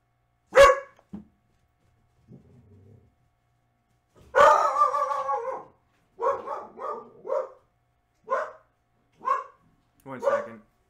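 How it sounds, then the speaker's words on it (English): A pet dog indoors barks in a quiet room: one sharp bark, a soft whine, then a burst of loud barking followed by a string of separate barks spaced about a second apart, with a person speaking briefly. "he thought someone was here, my dog"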